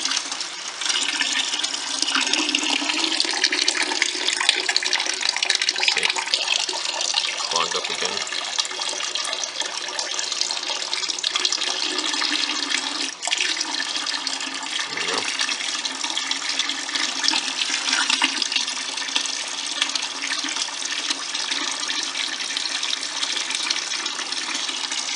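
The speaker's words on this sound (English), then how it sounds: "that's what takes so much longer is trying to siphon out a majority of the stuff" Water siphoned out of a saltwater reef aquarium during a routine water change, a steady continuous rushing and trickling wash that runs the whole time, loud and close, with faint low knocks now and then.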